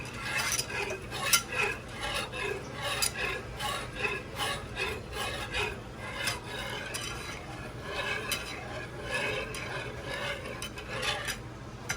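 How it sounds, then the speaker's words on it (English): A whisk scrapes and swirls through melted butter in a pan for homemade shrimp Alfredo sauce. The rhythmic rubbing and light metallic scratching are close and continuous, with no voices. "Whisk it just like that, and add a little more."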